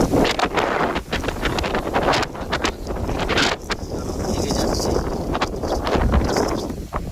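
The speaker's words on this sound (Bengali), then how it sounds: "এবারে ঝড়ে আমার মোবাইল যেন পড়ে যাবে হাত থেকে এমন বাতাস হচ্ছে" Storm wind with light rain roars against a handheld phone microphone at a home in New Bakkhali, in continuous heavy gusts while a voice speaks briefly over the buffeting.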